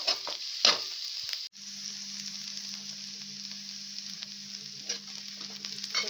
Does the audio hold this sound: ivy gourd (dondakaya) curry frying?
yes